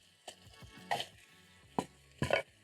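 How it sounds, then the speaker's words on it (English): Tomatoes being chopped on a board beside a pan of garlic and onions cooking, a few sharp, sparse knife knocks spaced apart over a faint sizzle, fairly quiet and close. "chopping up my tomatoes as the garlic and onions are cooking"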